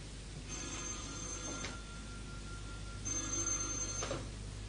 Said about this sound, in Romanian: Sună telefonul